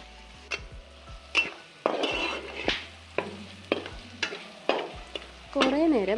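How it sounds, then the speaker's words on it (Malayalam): Onions sautéing in oil, mixed with oil used to fry chicken, for a spicy chicken roast: a steady close sizzle broken by repeated scraping stirs of a spoon against the pan, with no talk. "കുറേ നേരം ഇതുപോലെ നമ്മുടെ സവാള എണ്ണയിൽ സോട്ട് ചെയ്ത്"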